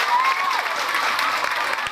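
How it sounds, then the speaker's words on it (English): A school audience at a girls' senior grammar school seminar applauds, a dense, steady burst of clapping from a large crowd lasting a couple of seconds, with a voice briefly over it. "A round of applause for yourself."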